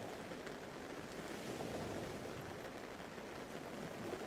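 Gentle ocean waves wash in a continuous low, airy roar with slight swells in loudness, steady and soft throughout, no voices.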